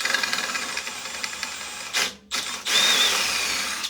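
Power drill running on a sailboat, bit following an existing hole, a steady whirring drone with a brief stop and restart partway through, close and fairly loud.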